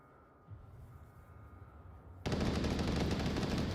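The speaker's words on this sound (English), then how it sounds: "Captain hears that loud gunfire" Gunfire in the Onward VR shooter: after a quiet stretch with small thuds, sustained automatic fire suddenly erupts, very loud and close, continuing to the end.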